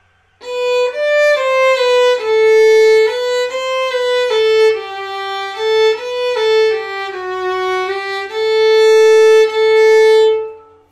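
A bowed string instrument plays a lilting French troubadour song alone, notes flowing smoothly one into the next, clear and close.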